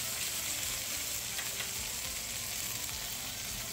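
Chuck eye steak searing in a hot pan, a steady, close, crackling sizzle that holds even throughout, with no one talking.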